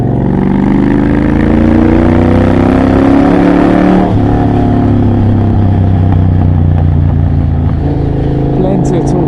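Triumph Bobber motorcycle with a Motone X-pipe exhaust and almost no silencing, revving hard and accelerating through the gears while riding, loud and close with a gear change midway and a deep throbbing engine note throughout.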